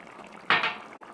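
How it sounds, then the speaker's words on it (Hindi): Cooking oil hits a pot of cooked mutton with a short, bright splashing sizzle that fades within about half a second, followed by a soft clink, close and alone. "और अब मैं इसके अंदर ये ऑयल डाल दूँगा"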